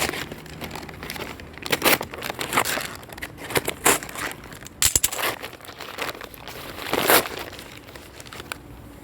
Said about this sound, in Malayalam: നമുക്ക് അൺബോക്സ് ചെയ്യാം.